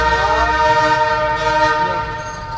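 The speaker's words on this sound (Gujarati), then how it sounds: "જોઈ લો ટ્રેન આવી હવે." A train approaches up close with a loud, sustained horn blaring over the heavy rumble of the rolling cars. The horn and the rumble continue without a break and fade slightly toward the end.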